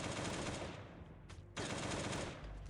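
Automatic AK rifle fire from the game Last Day on Earth, with loud, dense sustained bursts, a short pause near the middle, then more rapid shots.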